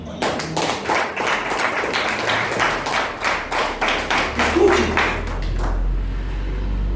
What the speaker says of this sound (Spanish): Hermano, le doy un aplauso al Señor.